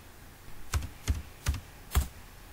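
Four distinct keystrokes tap on a computer keyboard, spaced unevenly over a couple of seconds, soft and close in a quiet room.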